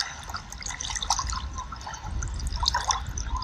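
Water sloshes and splashes around a swimmer snorkeling in deep ocean water off a Hawaii sandbar, with scattered bright droplet splashes over a steady low churn close by, no talking.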